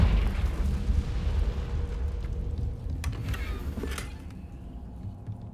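A Confringo fire-blast spell in the video game Hogwarts Legacy, a deep rumbling explosion that swells and slowly fades with a few crackling pops and whooshes.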